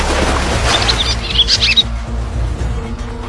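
Birds chirping in a wild African river setting, with a few short high tweets over a low rumbling background, fairly close and unaccompanied by any voice.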